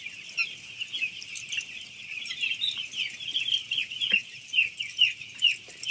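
Chickens at a new poultry farm cluck and chatter nearby in a dense, continuous flock chorus, with repeated short calls over a quiet background.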